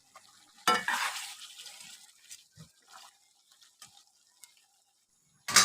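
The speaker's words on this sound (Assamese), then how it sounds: "গোটেইখিনি আলু মই এনেদৰে দি লৰাই ল'লো" A spoon scrapes and stirs chopped potatoes into a pot of mutton curry in a few short, separate bursts, fairly close and quiet, with near silence between the strokes.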